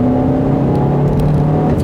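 A 2019 Hyundai Veloster Turbo engine with its sound enhancement switched off, giving a steady, moderately loud idle-to-light-rev hum with low harmonic tones, heard alone and continuous.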